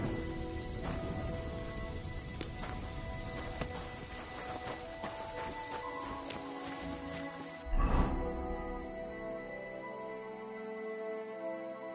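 Rain falling in Kingdom Come: Deliverance II, a dense steady patter with scattered drop ticks, then a sudden cut and a thud before the shower resumes more softly, without voices.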